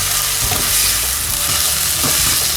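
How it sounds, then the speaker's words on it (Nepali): Ginger garlic paste fries with onion in a hot pan, a loud, constant close sizzle broken by repeated scraping stirs of a spoon. "यो अदुवा र लसुनको पेस्टलाई पनि हामीले प्याजमा फ्राई गरौँ।"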